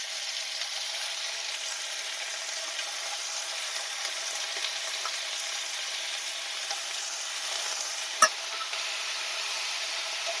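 Diced potato and pointed gourd frying with onion in a pan: a continuous, even hiss of sizzling oil with one sharp utensil tap near the end, no talk.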